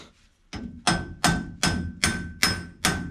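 A hammer strikes the rod of a C-100 hydraulic cylinder during assembly, seven sharp ringing metallic blows at a steady rhythm, close and loud, with no talking.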